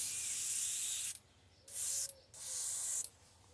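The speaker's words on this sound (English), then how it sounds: "And we'll kind of spray this all over the bait." Green paint sprays onto a thin crankbait lure in short bursts from an airbrush, three close hissing passes separated by brief pauses.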